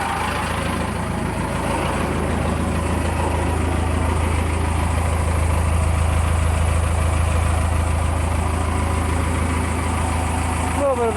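Cummins 4BT diesel engine idling with no muffler fitted, a steady low throbbing rumble close by that runs the whole time without breaks.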